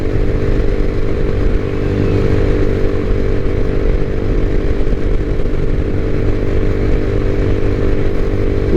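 An IceBear MadDog motorcycle fitted with a shorty muffler and baffle cruises at about 40 mph near 6,000 RPM, its engine giving a steady, loud, close buzzing drone that holds constant throughout.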